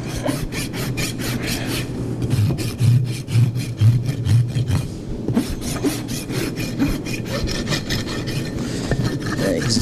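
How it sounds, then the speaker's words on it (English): A rasp files a horse hoof in rhythmic, repeated scraping strokes, close and fairly loud, with a brief pause midway. "Use a sander or a file and just clean it up a bit."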